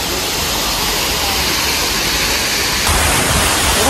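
Loud, steady roar of a waterfall at a falls used as a film shooting spot, a dense unbroken rush of falling water close by, slightly louder toward the end, with no voices.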